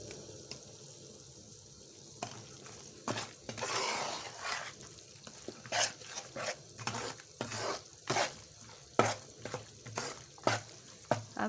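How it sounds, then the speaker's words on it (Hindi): Atta (wheat flour) roasts in a pan for halwa as a spoon stirs and scrapes it in irregular strokes, with soft sizzling and clinks of utensil on metal, fairly quiet and close. "इनको भी हम थोड़ा सा भून लेंगे। आंच थोड़ी आस्ता कर लेनी है।"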